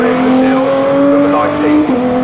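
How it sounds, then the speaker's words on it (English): Number 20 Saxon Motorsport BMW race car at Snetterton during a GT Cup race, a loud steady engine note sweeping past close by with a slight pitch drop near the end. "the speed that we just saw going past our commentary box there, the number 20 BMW, the Saxon Motorsport BMW 150"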